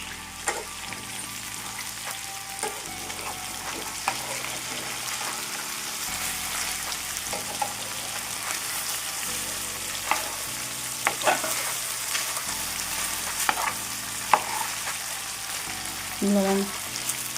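Taro root (colocasia) stir-fried with chili powder in a pan, a steady sizzle with repeated scraping and stirring strokes that grow more frequent toward the end.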